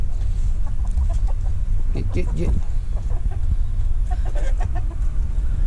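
Chickens cluck in short scattered bursts close by in a garden, with faint voices and rustling underneath a steady outdoor background.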